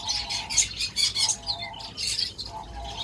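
Several rosy starlings kept in a home cage call with repeated squawks and chirps, mid-loud and steady through the clip, over a faint background hum.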